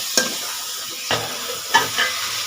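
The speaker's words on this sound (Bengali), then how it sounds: "দেখুন এইভাবে এবার সমানে কষতে থাকবো যতক্ষণ না আদা রসুন আর টমেটোর গন্ধটা যাচ্ছে।" Ginger, garlic and tomato masala being stir-fried in a pan: a soft continuous sizzle broken by three or four sharp scrape-and-clink strokes of a spatula, close up with no voices.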